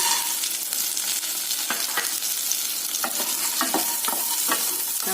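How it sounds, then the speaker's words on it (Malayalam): Peanuts for peanut chutney being stirred in a hot pan, a steady hiss of frying with repeated scraping and clacking strokes of the spoon, close and fairly loud, no voices. "ഈ സമയത്ത് നമ്മൾ കപ്പലണ്ടി ചേർത്ത് കൊടുക്കാം."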